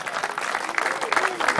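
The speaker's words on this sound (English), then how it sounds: "Give them a big round of applause." Applause from a crowd at a redfish fishing tournament awards ceremony in Savannah, a dense patter of clapping with voices mixed in under it, steady and fairly loud throughout.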